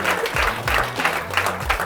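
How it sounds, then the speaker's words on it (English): Steady applause from an audience at a teachers' game session fills the whole stretch, dense and continuous with a faint voice underneath. "Can you give her a big round of applause?"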